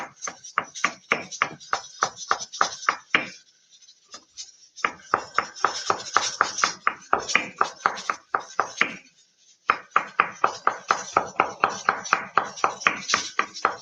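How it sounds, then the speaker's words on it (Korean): A knife cuts pre-sliced carrot into thin julienne strips on a cutting board, making rapid, even chopping taps in three runs separated by short pauses. The sound is close and clear, with no talk. "얇게 이렇게 채를 썰어주세요."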